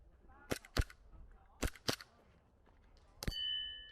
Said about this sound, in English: The sound of gunfire rings out over a military base on Taiwan's Kinmen Islands.